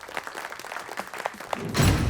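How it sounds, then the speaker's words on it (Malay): Scattered claps from a small crowd that swell into a louder burst of applause near the end. "Kita berikan tepukan sekali lagi."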